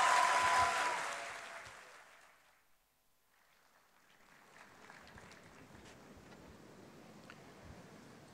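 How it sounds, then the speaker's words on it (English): Applause from an audience at a university convocation in Karachi rises loud at first, fades to near silence, then swells again into a steady, softer clapping from the crowd. "please welcome Mr. Hussain Dawood with a huge round of applause."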